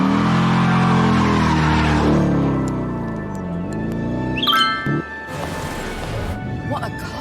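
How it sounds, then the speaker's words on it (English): A car revs hard in a burnout with the front brakes held, engine pitch rising and falling loudly with tyre roar and squeal, close and continuous, ending in rougher, noisier spinning. "It holds the front brakes while letting me do a massive burnout."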